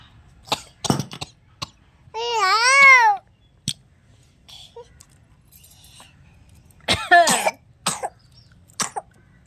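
A small girl coughs in several short, dry bursts close to the mic, with babbling and brief crying sounds between them.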